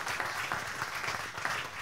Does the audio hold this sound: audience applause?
yes